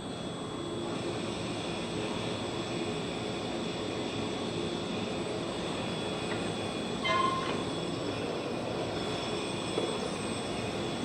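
A small MACH flotation test rig runs with a steady, continuous mechanical drone and hum at a constant loud level, with a brief higher-pitched squeak partway through.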